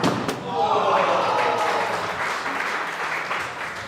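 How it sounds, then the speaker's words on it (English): Spectators at a live skittles match give a round of applause after a shot, the clapping swelling quickly and fading gradually, with a thump at the start. "Takes a round of applause."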